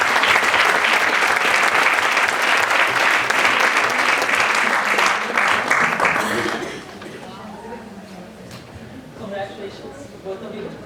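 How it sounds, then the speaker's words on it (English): An audience claps loudly and steadily for several seconds at a student recognition event, then the applause drops away abruptly and a voice starts talking over the quiet room. "big round of applause for Neil as well"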